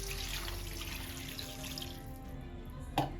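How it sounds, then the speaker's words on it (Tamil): Water runs and splashes steadily into a pot of crab gravy, with a brief clink near the end. "நான் இப்போ தண்ணி சேர்த்துக்கிறேன்"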